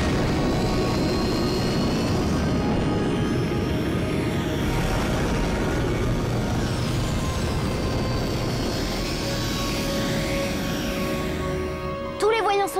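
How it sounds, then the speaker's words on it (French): A cartoon spacecraft's engine roars loudly during vertical takeoff, a dense, steady rumbling thrust that tapers slightly near the end, with speech heard over it. "Décollage."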